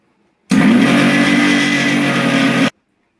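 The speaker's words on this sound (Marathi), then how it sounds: "आणि हे मिक्स करून घ्यायचं आता मिक्सरला।" Electric mixer grinder blending gulab jamun powder, flour, baking powder and soda for a sponge cake, a loud, steady whirring motor running about two seconds with an abrupt start and stop, no talk.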